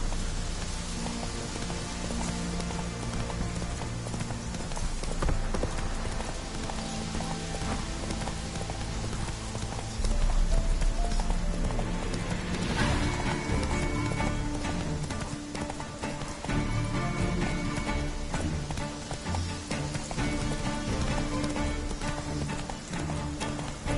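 Roach the horse gallops in The Witcher 3, a steady rhythmic clip-clop of hooves running on for the whole stretch under game music and ambience, with no speech.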